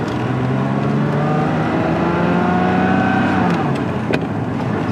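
A 1983 Ferrari 512 Berlinetta Boxer BBi engine drones loudly up close, its pitch climbing steadily as it accelerates through the gears, then dropping off near the end with a brief shift.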